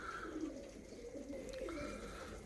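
Pigeons coo softly in low, throaty, repeated calls, fairly close, over a faint steady background hum.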